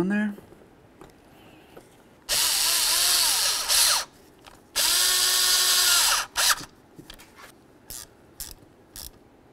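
Power tool snugging up throttle body bolts on a 1994-2004 Chevy S-10, two loud whirring bursts of a couple of seconds each, followed by short clicks and taps of tool handling.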